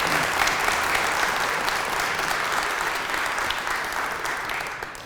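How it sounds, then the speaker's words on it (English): Sustained applause from an audience at a historical society anniversary gathering, a steady, dense wash of many hands clapping that fades slightly toward the end. "How about a round of applause for Kent for the coverage of the history?"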